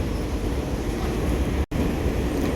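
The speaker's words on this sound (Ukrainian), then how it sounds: "їдемо в центр міста на метро." A Barcelona metro train rumbles along the track, with a loud, steady, close roar and a brief cut in the middle.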